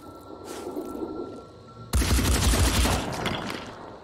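Gunfire in the video game Phoenix Point: after a quiet stretch of low ambience, a loud, dense burst of shots erupts midway and keeps rattling steadily to the end, with no talk.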